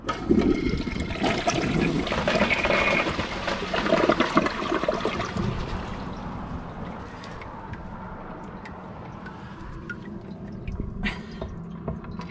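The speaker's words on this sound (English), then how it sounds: "Let's give this a flush and see if it gets partially clogged or not" A toilet flushing toy army men, a loud continuous rush and swirl of water that tapers into a softer trickle and refill with a few late drips, with no talking.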